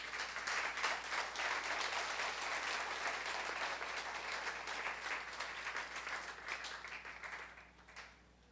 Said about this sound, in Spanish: Dele ese aplauso a Él